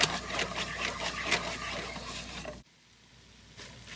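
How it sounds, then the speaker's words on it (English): Garlic and tomato paste being stirred into drained cooked beef for sloppy joes, with a close, busy crackle and scraping that stops abruptly, leaving quiet room tone. "We are going to stir this together until that tomato paste melts a little bit"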